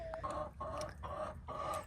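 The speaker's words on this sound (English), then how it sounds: "he's our barred rock rooster. And then there's our whole flock." A backyard flock of chickens with a barred rock rooster clucks in short repeated calls, four or five clucks in quick rhythm, close and clear with no talk.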